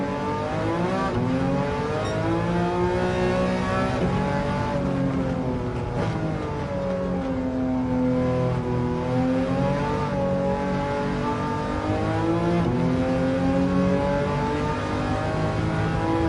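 Engine-swapped 1966 Volkswagen Beetle racing in Gran Turismo 7, its engine revving hard and steadily throughout, with pitch rising and falling through gear changes, loud and close with no talk.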